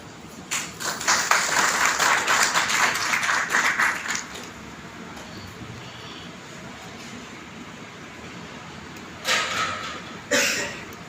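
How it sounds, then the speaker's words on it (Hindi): An audience at a village workshop on saints bursts into a dense round of clapping that fades after a few seconds, with brief renewed applause near the end over a quiet hall. "पुनः जोरदार ताली जाएंगे डॉक्टर साहब जी।"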